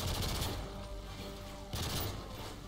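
Gun firing in the Call of Duty video game: two bursts of rapid automatic fire, one at the start and one around 1.7 seconds, moderately loud over a low background rumble.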